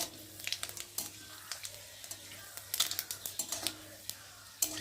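Panch phoron whole spices crackle in hot oil for a green tomato dish, with a steady run of small pops and sharp sizzling spatters, fairly faint and close, with a few louder crackles.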